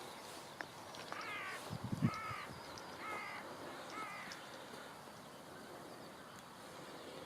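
A crow caws outdoors in a series of four harsh, evenly spaced calls at moderate distance, with faint birdsong and low background noise around it.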